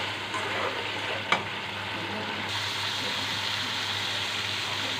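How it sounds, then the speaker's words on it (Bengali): Fried potatoes being stir-fried in a pan for a fish curry, a steady close sizzle with scraping stirs and a brief clack of the utensil, no voices. "এবার আমি ভেজে রাখা আলুগুলো এর মধ্যে দিয়ে দিচ্ছি। আলুগুলো একটু কষিয়ে নিচ্ছি।"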